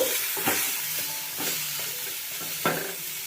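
Flat beans fried in a pan with turmeric, stirred with a spatula: a steady loud sizzle with rhythmic scraping strokes against the pan, close up and with no voices.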